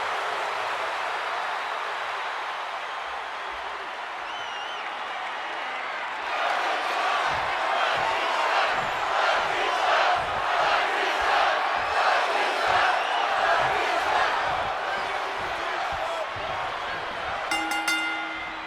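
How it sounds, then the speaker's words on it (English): A WrestleMania crowd in the WWE 2K26 wrestling video game roars steadily, swelling louder and more excited partway through with rhythmic chanting surges, as a constant wash of arena noise and a faint chime near the end. "this WrestleMania crowd is on the edge of their seats"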